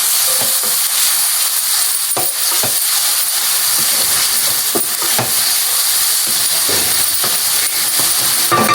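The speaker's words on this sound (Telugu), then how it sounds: "ఈ ముద్ద వేసేసి బాగా ఈ ముద్ద రోస్ట్ అయ్యేలా కలుపుకోవాలి." A raw masala paste of ginger, garlic, coriander and cumin roasts in a pan for a fish curry, giving a loud, steady frying hiss broken by scattered stirring clicks and pops.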